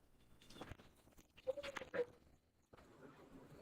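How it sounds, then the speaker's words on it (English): A dog behind someone speaking into a microphone lets out a few sharp, faint barks around the middle of a short quiet stretch, somewhat distant and muffled. "Hold on a minute, I got a crazy dog behind me."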